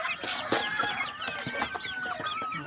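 Philippine native chickens in a small backyard poultry farm cluck steadily and close by, a busy overlapping chorus of short calls with no talk over it.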